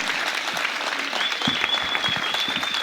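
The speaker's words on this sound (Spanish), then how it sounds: "Le damos un fuerte aplauso al compañero dirigente del Partido Obrero, Víctor Dávila." A crowd at a Partido Obrero political rally in Buenos Aires applauds a party leader, with continuous clapping, a whistle cutting through, and a few louder individual claps standing out near the front.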